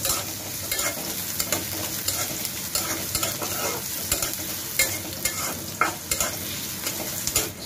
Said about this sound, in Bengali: পেঁয়াজ রসুনটা এখন একটু ভেজে নেব বাদামি কালার করে।